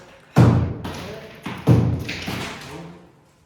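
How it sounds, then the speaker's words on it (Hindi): Demolition and renovation work in a home, two heavy close thuds about a second apart, each followed by rattling debris and fading resonance. "तोड़ फोड़ का काम है ना गाइस"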